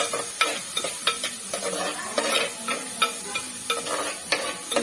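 Sliced shallots and slit green chillies sauté in a pan for a drumstick curry, a continuous sizzle broken by repeated scraping stirs and light clinks of a spoon, close and fairly loud.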